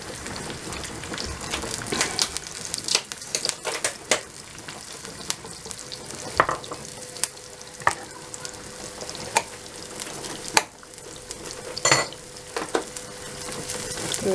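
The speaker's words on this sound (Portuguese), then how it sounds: "Colocar aqui a cebola e o alho, vamos deixar que frite um pouco bem." Onion and garlic frying in a pan, a steady crackling sizzle with scattered sharp pops and spatters throughout, close and moderately loud.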